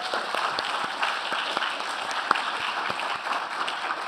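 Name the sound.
audience applause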